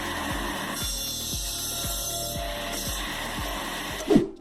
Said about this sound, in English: Wood sawing machine with 4 kW motor.